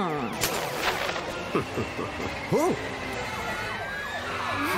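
The rising and falling wail of the ST3000 super fire truck siren from a children's cartoon rescue, mixed in with busy animated sound effects and chirpy voices.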